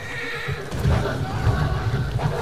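A horse in Red Dead Redemption 2 gives a loud, close whinny over game ambience, with heavy hoof and body rumble underneath and no talking.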